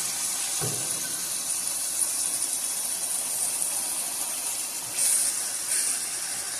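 Minced keema sizzles in water and oil on a hot tawa, a continuous close hiss and crackle with a couple of louder spits and flares, and no talking.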